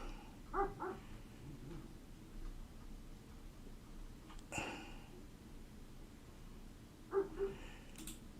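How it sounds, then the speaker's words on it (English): Distant dog barking outdoors, a German Shepherd and Golden Retriever mix, giving a few faint short barks at the start and again near the end, with a sharp sound in between. "Yes, you hear a dog barking in the background."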